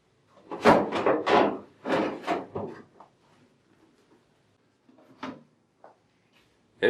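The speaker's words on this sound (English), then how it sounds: "Then remove the drip tray and the waste bin." Plastic parts of a Wittenborg 9100 coffee machine, the drip tray and waste bin, are pulled out. A quick run of close, hollow clattering knocks is followed by a few softer isolated clicks.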